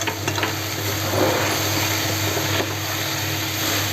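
Cabbage frying in a pan, a steady close sizzle over a constant low hum with a few faint scrapes, no speech.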